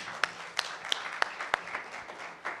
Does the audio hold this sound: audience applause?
yes